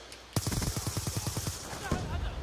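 Rapid automatic gunfire in Call of Duty Black Ops 2, a fast string of about a dozen loud, evenly spaced shots with a brief burst after, heard over a busy multiplayer match.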